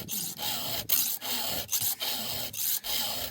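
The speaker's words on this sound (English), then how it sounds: "I am one-hand filing." A chainsaw chain is filed by hand with one hand: steady, close rasping strokes of metal on metal, about seven in a row, each separated by a brief pause.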